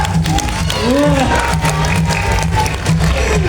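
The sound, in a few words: audience applause for the animal Faya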